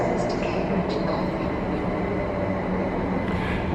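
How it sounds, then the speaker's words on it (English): Greater Anglia train pulling into a station platform, a continuous loud rail rumble with faint wheel noise from close by, while a voice talks over it. "there's a little bit of filming of the train coming in on the wrong direction"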